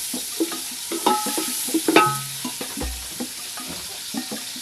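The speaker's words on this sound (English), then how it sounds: "I will cook the onions until they turn golden brown." Onions frying in cooking oil in a village kitchen, soft sizzling with intermittent stirring and scraping clicks, close and fairly quiet, no speech.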